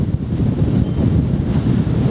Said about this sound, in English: I can't really hear much apart from the wind